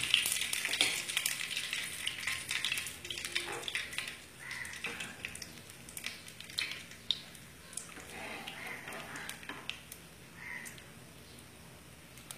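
Bay leaves and whole cumin seeds frying in hot oil for a Bengali cabbage and rohu fish head dish, a steady close sizzle with crackling pops and occasional stirring scrapes, no talk.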